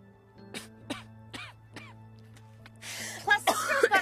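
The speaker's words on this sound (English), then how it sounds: "Plus, this girl's got a pretty severe cough." A woman in a desert setting coughs in several short, separate bursts, close and fairly loud, followed by a rougher, breathy stretch that could be more coughing or laughter.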